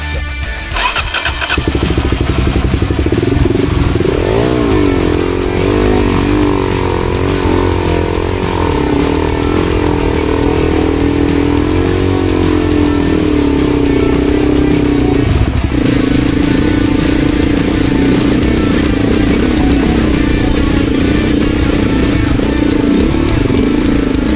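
An adventure motorcycle on a steep climb, its engine starting with a rough crank and then droning loud and close with uneven, labouring revs, faint voices underneath.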